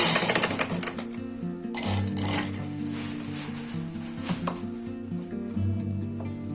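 A sewing machine stitching lace onto a blouse, a steady rapid mechanical clatter with short bursts and pauses, up close beside a faint hum.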